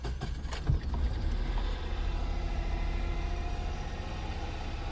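A Honda Insight engine turns over on its starter motor and catches, then runs at a steady, close idle hum with a low rumble, with wind noise outdoors.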